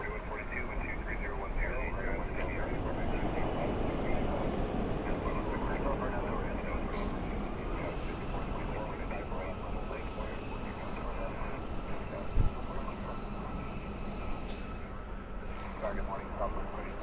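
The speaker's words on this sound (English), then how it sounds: "Got another 787 Dreamliner coming in, snuck up on me." A Boeing 787 Dreamliner airliner landing at Los Angeles International Airport, heard as a steady, broad jet roar that holds at a fairly even level throughout, with voices talking over it.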